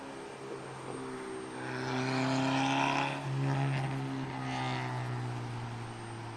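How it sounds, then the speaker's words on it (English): A Southwest Airlines Boeing 737 arrives at Portland International Airport. A steady jet roar swells and fades as it passes at moderate distance, over a constant low hum. "our arrival, Southwest Airlines 737"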